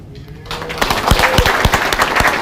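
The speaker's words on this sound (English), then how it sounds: "Another round of applause for them" An audience claps for a fire and rescue recruit academy class at a ceremony, starting quiet then swelling into steady, dense applause with a few sharp nearby claps standing out.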